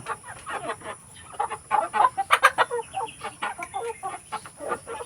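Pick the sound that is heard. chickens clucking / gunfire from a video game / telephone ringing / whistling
chickens clucking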